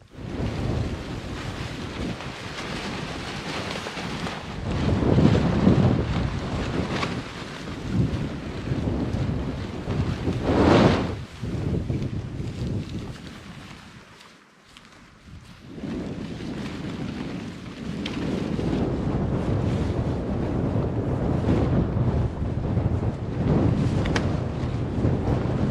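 Strong late-autumn wind gusts across a lakeside wild campsite, roaring and buffeting close to the microphone. It swells and eases in waves, with a brief lull midway before it rises again.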